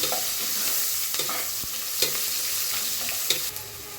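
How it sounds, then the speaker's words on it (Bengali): Chopped onion, green chilli, cardamom, cinnamon and bay leaves fry in a pan with a steady sizzle, punctuated by scraping stirs and occasional sharp clinks of a utensil. "এরপরে দিয়ে দেবো হচ্ছে পেঁয়াজ কুচি কাঁচামরিচ কুচি কিছু গরম মশলা এলাচ দারচিনি তেজপাতা এগুলো সব মিক্স করা একটু হালকা করে ভেজে নেব"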